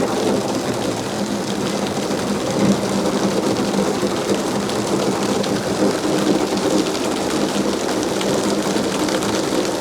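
Heavy rain pours down in the desert, a dense, constant hiss of drops striking surfaces with low rumbling beneath, steady and close throughout with no talk.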